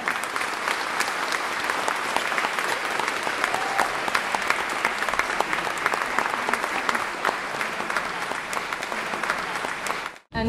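Warm, sustained applause from a concert audience welcoming a chamber orchestra, dense and steady for about ten seconds before cutting off abruptly at the end.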